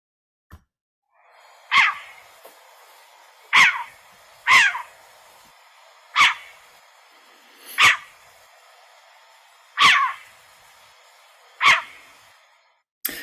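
Wintering call of an owl, a sharp yappy bark like a small dog's, repeated about seven times at irregular intervals of one to two seconds, clear and fairly close against a quiet background.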